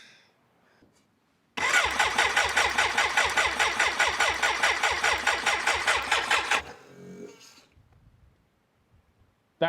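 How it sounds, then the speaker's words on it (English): A BMW K100 motorcycle's fuel pump primes with a rapid, rhythmic mechanical chattering that pulses loudly for about five seconds, then cuts off, leaving faint rustling. "That was the sound of a petrol pump coming to life."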